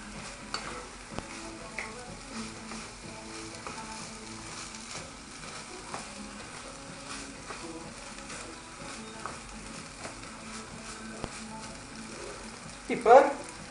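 Yangzhou fried rice sizzling steadily in a hot pan while being stirred, with scraping strokes and occasional utensil taps close by, and a louder clatter near the end.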